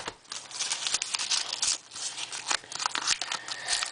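Continuous close crinkling and crumpling of paper wrapping with rough tearing bursts, steady and busy throughout, no voices.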